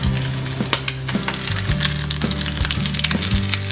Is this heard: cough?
no